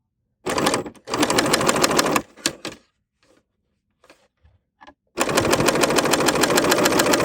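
A serger sewing machine stitches over a cord to make serger yarn, running in loud rapid whirring bursts broken by short pauses and soft clicks, then starting up again, with no talk.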